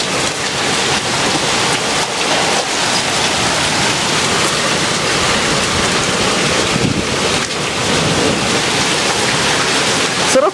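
Steady heavy hail keeps falling outdoors in summer, a dense close roar of countless small impacts with scattered sharper taps, continuous and loud, nobody speaking.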